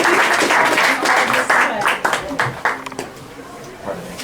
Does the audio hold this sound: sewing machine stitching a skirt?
no